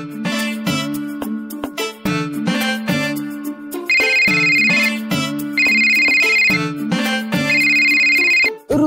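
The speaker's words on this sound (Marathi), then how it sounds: "रुद्र सरांचा फोन" A mobile phone ringtone in a Marathi TV serial scene plays a loud, repeating electronic melody close by. The tune cycles for nearly nine seconds with no talking.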